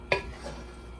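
Tamarind rice (puliyodharai) stirred with its paste in a vessel: a single brief, close scrape of a spoon against the pot, followed by a faint soft rustle.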